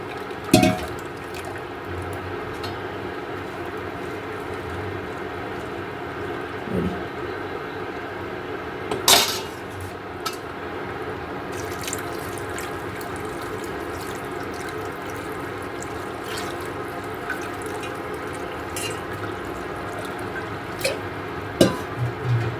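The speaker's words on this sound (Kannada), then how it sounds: "ಹಿಂಗೆ ನೆಕ್ಸ್ಟ್ ಒಂದು ಸ್ವಲ್ಪ ನಾರ್ಮಲ್ ವಾಟರಲ್ಲೂ ಈ ರೀತಿ ಹಾಕ್ಕೋಬೇಕು." Strained foxtail millet (navane) noodles are rinsed in plain water, a close, steady trickle and splash with occasional clinks, while a voice speaks at times.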